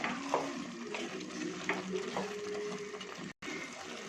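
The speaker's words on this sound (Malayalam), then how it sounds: "കറി നമുക്ക് അതിലോട്ട് ഒരു ടേബിൾ സ്പൂൺ ഗരം മസാല ഇളക്കി യോജിപ്പിക്കാം" A spoon stirs garam masala into chickpea curry in a pan, soft scraping and light clinks over a low simmering sizzle, close and fairly quiet with a brief cut near the end.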